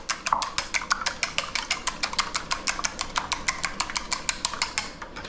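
Whisk or fork beating ingredients with coarse kosher salt in a bowl, a brisk, steady rhythm of sharp clinks against the bowl, close and clear, about five strokes per second.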